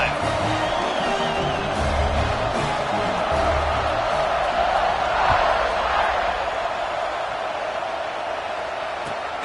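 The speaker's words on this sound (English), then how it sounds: "this crowd is feeling themselves after that last drive" Virtual stadium crowd in the NCAA 26 college football video game, a steady roaring cheer that holds loud and unbroken throughout, with a commentator's voice talking over it.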